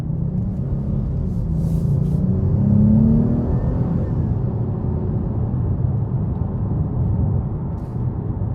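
A 2023 Dodge Charger GT Blacktop with its 3.6 V6 engine drones and rumbles steadily while driving, swelling briefly as it accelerates, with road noise beneath and no talking.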